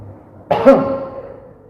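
A single short cough, muffled and fairly close, in an otherwise quiet space.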